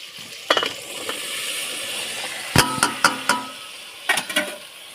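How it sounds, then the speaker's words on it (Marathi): Cauliflower sizzling in a pan with chopped tomatoes, with a steady soft fry under several sharp clinks and scrapes of a spoon against the pan, close and fairly loud. "त्याच्यामध्ये मी आता हे टाकून घेते फुलकोबी"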